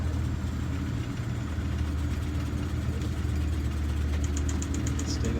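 A car engine lugs at low revs during a test drive, a deep, steady drone with a slight shudder, and it changes gear partway through while the engine hum continues.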